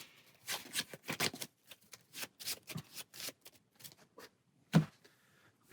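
A deck of playing cards is shuffled during a card game, a run of quick papery riffles and soft slaps in irregular bursts, close and fairly quiet, with no talk.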